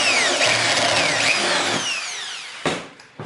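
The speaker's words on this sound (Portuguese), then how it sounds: "Vou fazer o primeiro furo." A drill bores the first hole in a part of a Calmatinho model airplane, its high motor whine rising and falling in pitch before cutting out, followed by a couple of brief knocks.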